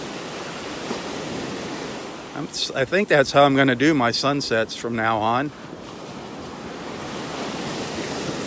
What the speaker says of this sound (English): You can see those waves roll in and hear the sounds of the waves.